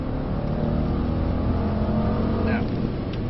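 A Mercedes C63 S engine droning steadily on a race track, a loud continuous rumble with a faint higher whine near the end and no break in the noise.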